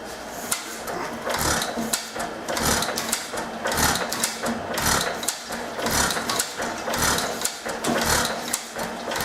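The engine on a refurbished Myers piston pump, fed through its fuel mixer, chugs with a loud, steady mechanical clatter and rhythmic knocking, close up and continuous without speech.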